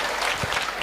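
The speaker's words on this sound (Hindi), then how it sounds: "एक बार जोरदार तालियां आप लोगों की आए" An audience bursts into loud applause, a dense, steady wash of clapping from many hands, brief and full.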